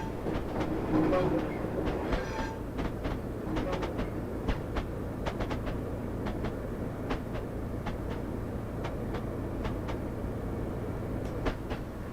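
An IET passenger train bound for Paddington from Swansea runs in a train simulator game, giving a steady rolling rumble with recurring rail clicks throughout and a brief louder burst near the start.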